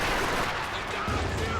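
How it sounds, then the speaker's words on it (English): Rapid machine gun fire from the Company of Heroes 2 strategy game, a US versus OKW match, sounds as a dense, continuous burst of loud gunfire mixed with battlefield noise across the whole short moment. "but I have my machine gun here"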